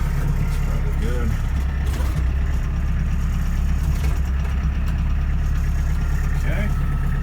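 A tractor engine runs steadily close by while hay is fed to cattle in a Minnesota blizzard, a continuous low idling rumble with wind and rustling noise over it the whole time.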